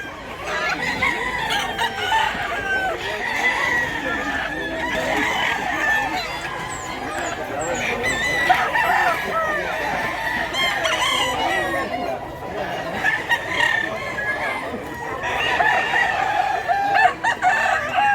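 Many roosters crow over a constant din of clucking chickens at a crowded poultry market in Mantalongon, Barili, Cebu, a busy flock heard close up with faint voices mixed in.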